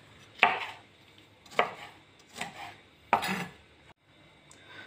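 A knife slicing through a habanero pepper on a board, four crisp separate cuts with short pauses between them, close and clear, no voices.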